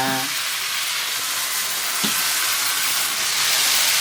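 Appam batter poured into a hot pan, a loud broad steady sizzle and hiss that fills the moment close up, with a faint tap of a ladle near the start and a second soft knock midway.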